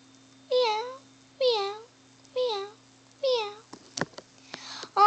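A voice imitates a cat, giving four drawn-out meows at a steady pace, followed by a few short sniffs and clicks.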